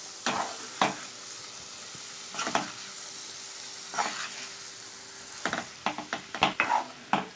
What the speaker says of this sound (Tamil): பாவக்காய் ஆட் பண்ணிக்கலாம். நல்லா கலவி விட்டுடலாம்.